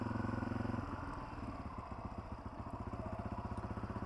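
Honda CRF250f dirt bike engine running steadily while riding woodland single-track trails, a close, continuous mid-pitched drone with a pulsing, throbbing rhythm and no talk.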